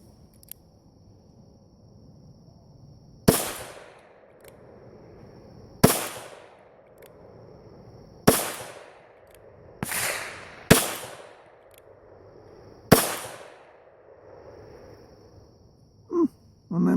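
Six sharp .38 Special pistol shots loaded with Clay Dot shotshell powder, fired outdoors at uneven intervals a few seconds apart, each loud crack trailing off with a short echo.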